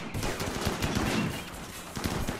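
Colonists in RimWorld firing at raiders: rapid bursts of gunshots and automatic fire, sharp repeated cracks in uneven clusters, fairly loud and close, with no voices over them.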